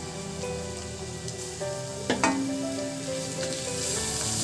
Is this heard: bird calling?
no